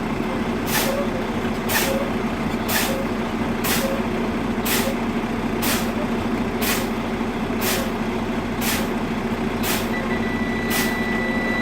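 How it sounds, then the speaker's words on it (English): Sharp truck air-brake hisses repeat at a steady rhythm, about a dozen bursts, over a continuous engine and the buzzing drone of a low-air warning buzzer. "I'm going to pump the brakes the whole time until I hear the noise"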